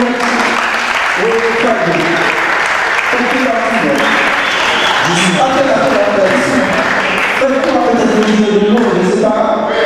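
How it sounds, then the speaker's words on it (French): An audience applauding at an event, steady dense clapping throughout while several voices talk and call out over it. "On applaudit bien fort, elle va nous remettre."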